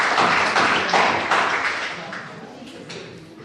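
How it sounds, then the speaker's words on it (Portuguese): A church congregation gives a burst of applause for Jesus after a Portuguese sermon, a broad wash of many hands clapping at once that swells briefly and then tapers off over a few seconds. "Se você pode, dá uma salva de palmas para Jesus"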